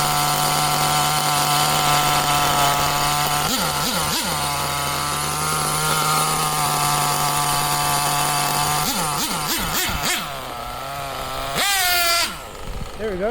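A small engine with a mismatched pipe revs hard at full throttle, a loud buzzing drone that rises and falls in pitch with several quick blips, then bogs briefly near the end.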